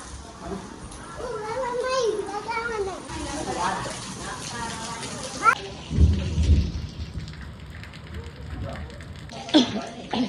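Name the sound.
rain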